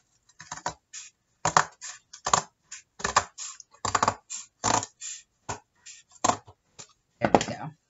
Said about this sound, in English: let me get some scissors and just trim that edge a little bit